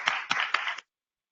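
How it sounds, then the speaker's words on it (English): A small room at a board of education meeting breaks into a brief burst of clapping, close and fairly faint, lasting under a second before stopping into silence. "let's go ahead and give them another round of applause"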